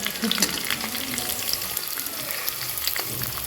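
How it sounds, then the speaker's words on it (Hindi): Thick-cut onions frying on a low flame, a steady crackling sizzle with scattered pops and faint stirring close by. "जो मोटे मोटे से प्याज काटे हैं ना, वो डाल देते हैं इसमें, उसको भी फ्राई कर लेते हैं।"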